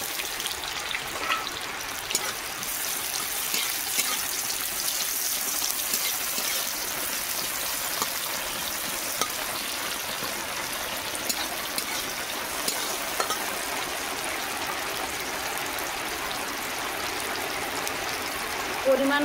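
Chopped onion sizzles in hot oil with green chilli and black cumin, a steady close hiss and crackle of frying running evenly throughout with no pauses.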